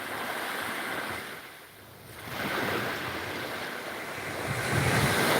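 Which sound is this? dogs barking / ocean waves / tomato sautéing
ocean waves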